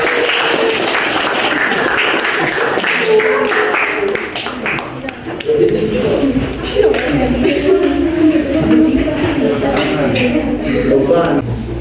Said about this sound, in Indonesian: Oke, kita beri tepuk tangan dulu untuk kelompok 1.